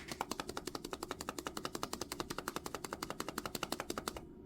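A plastic Kinder Joy egg shaken rapidly with a soft fabric bookmark toy inside, giving a steady, fast run of dull rattling knocks close to the mic, with no talking.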